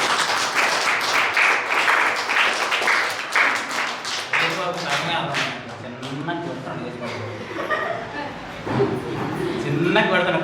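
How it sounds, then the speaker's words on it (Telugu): Congregation in a church clapping loudly during a Sunday sermon, a dense wash of hand claps over the first half that thins out as a preacher's voice and murmuring take over. "అర్థమైన వారు అందరూ గట్టిగా చప్పట్లు కొట్టండి."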